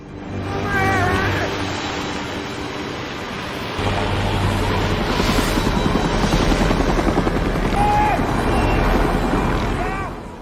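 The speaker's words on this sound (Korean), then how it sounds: "저 멀리 헬리콥터 한 대가 보입니다." A helicopter over the Arctic in strong wind, its rotor thumping in a loud, rapid, continuous chop that swells and then holds steady, with some faint higher whistling tones mixed in.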